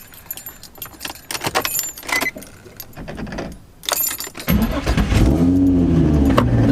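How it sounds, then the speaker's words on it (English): A car cold-starts after an engine swap: keys jangle and rattle up close, then the engine cranks and catches into a loud, steady idle with a brief rev. "I'll go ahead and cold start it right now for you, so you guys can hear it"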